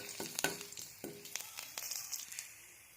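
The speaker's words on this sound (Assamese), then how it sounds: "এতিয়া কেৰাহীত দি দিছোঁ গোটা জিৰা কেইটামান" Whole cumin seeds hit hot oil in a wok after fish pieces were fried, giving a close, steady sizzle with sharp crackling pops scattered throughout, and no talking.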